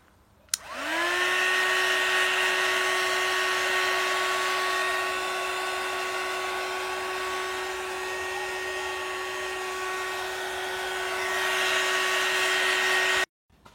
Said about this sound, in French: Pour accélérer le séchage, moi j'utilise le petit décapeur.